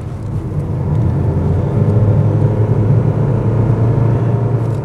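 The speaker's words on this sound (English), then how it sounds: "there's a fair amount of engine noise that comes into the cabin" Steady engine drone and road rumble heard from inside the cabin of a 2018 Honda Amaze, constant and fairly loud with no talking.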